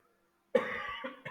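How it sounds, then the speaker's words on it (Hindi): One short cough, followed by a couple of smaller cough bursts, from a man pausing mid-explanation in a trading tutorial, close to the microphone in an otherwise quiet room. "सॉरी, खांसी आ गई थी जरा।"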